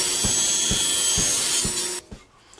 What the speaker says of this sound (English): I'm cutting the spatula down to its final width.